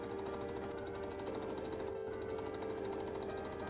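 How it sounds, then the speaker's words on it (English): A sewing machine runs steadily at a fast, even needle rhythm while stitching the front tongue of a costume boot, close by and alone, with a very brief pause in the middle. "The first piece I sew together is the front tongue of the boot."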